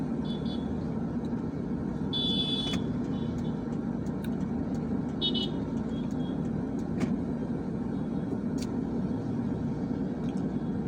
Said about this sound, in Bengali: গাড়িটা ঘোরাবো